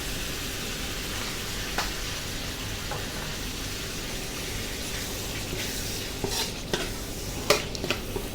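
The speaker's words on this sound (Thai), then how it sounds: "ผัดให้เข้ากันครับผม" Shrimp stir-fried with sweet peppers, oyster sauce and soy sauce in a street-food wok, giving a steady close sizzle with occasional scraping stirs and spatula clinks, no talking.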